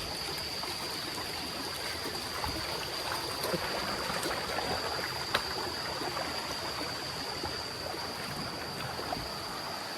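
A heavy stream of water flows steadily and continuously. It makes a broad, close rushing wash with no talk over it.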